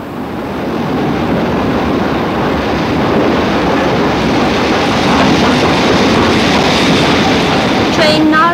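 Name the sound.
train arriving at platform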